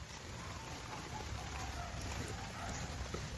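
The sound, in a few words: rain falling while parked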